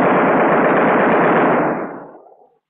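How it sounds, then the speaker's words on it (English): A bomber's machine gun fires a continuous two-second burst, loud and rapid, then the roar cuts off and fades quickly into silence. "As soon as he gets in range, fire a 2-second burst."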